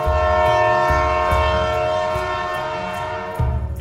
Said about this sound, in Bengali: একটা বিকট হুইসেল বেজে উঠল দূর থেকে